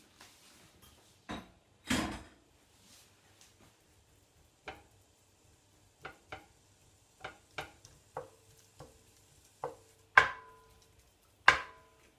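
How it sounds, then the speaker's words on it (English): Knife chopping bell peppers on a cutting board in a home kitchen, a sparse series of sharp, distinct thuds at uneven intervals, close and fairly quiet, with a few louder strokes near the end. "So I finished cutting up my peppers"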